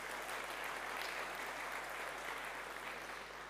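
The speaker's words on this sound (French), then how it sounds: "oui, on peut les applaudir" A quiet, distant wash of audience clapping fills a 2022 energy-transition trophy ceremony, steady and even throughout without voices.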